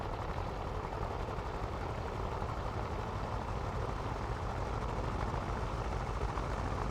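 A steady, dense engine drone from an Avro Anson taxiing in the flight simulator game MSFS 2024 at Duxford, an even idling rumble that holds constant throughout with no speech.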